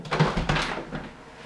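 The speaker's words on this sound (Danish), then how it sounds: "går jeg hen og åbner et vindue i hvert fald" A window being opened in a room, giving a short creak and knock with a brief rattle, close and fairly soft, then fading away.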